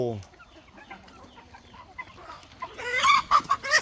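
Chickens, about six months old, cluck softly and intermittently nearby, building to louder, sharper clucks toward the end, with faint voices in the background.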